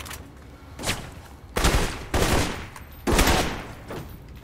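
Gunfire in the video game Alpha Protocol, several loud sharp bursts in quick succession with short gaps between them, heard without talk.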